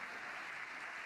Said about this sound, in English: And from the clapping we can hear, it sounds like we have a successful landing.